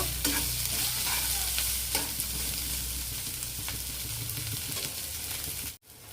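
Spice masala with coriander powder being stir-fried in a pan, a steady close sizzle with brief scraping stirs, ending in a sudden cut near the end.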